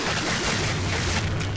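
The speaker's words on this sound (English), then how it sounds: "the fireworks are so loud" Loud, dense fireworks burst after a goal in a Minecraft Hypixel Bridge match, a continuous crackling roar with no pauses and no talk over it.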